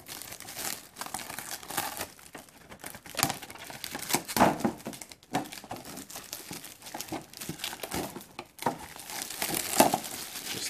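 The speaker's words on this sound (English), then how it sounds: "You basically just peel off the film." Protective plastic film peeled off a Funko POP protector, a close, crackly crinkling and tearing run with bursts and pauses throughout, no talking.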